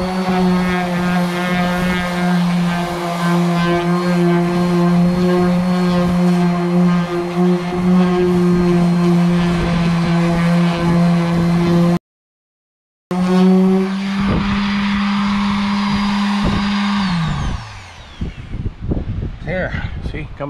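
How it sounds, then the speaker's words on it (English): An electric 5-inch random orbit sander strips black coating from a school bus body in a loud, steady droning whir with strong tonal hum, cut briefly and winding down near the end. "Now I'm just gonna sand it with this 6-inch or 5-inch, probably a 5-inch random orbit sander here, electric one"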